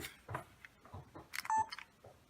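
A short electronic beep from a Sony camera's power button as it turns off, amid faint clicks and handling noises nearby, with no speech.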